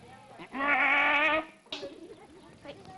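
Goats on a farm in India give one loud, drawn-out bleat lasting nearly a second, with quieter animal and background sounds before and after.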